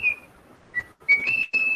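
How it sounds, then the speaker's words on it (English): A child whistles over an online class microphone, short clear tonal notes in a choppy run of bursts, close and fairly loud with gaps between. "stop whistling."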